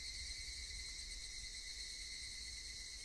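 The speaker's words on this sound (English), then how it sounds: "Only the cry of the cicadas remained, annoyingly loud" Cicadas in the visual novel Higurashi, a continuous shrill buzzing drone at steady volume with no pauses or other sounds.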